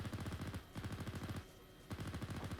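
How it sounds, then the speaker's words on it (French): Rapid automatic gunfire in the military simulation game Arma III, loud sustained bursts of rapid shots with brief pauses between volleys, no talking. "Concentre tes tirs dans les bâtiments."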